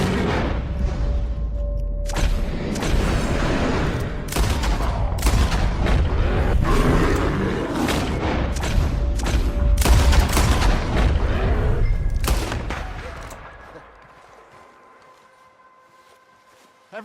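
Gunfire rings out as a bear is shot at during a hunting trip in Red Dead Redemption 2, with loud repeated shots and booms over a roaring, chaotic struggle that fades to quiet near the end.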